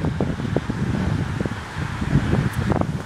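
Steady, loud wind buffeting the microphone with rumbling gusts throughout while walking outdoors, and no one speaking.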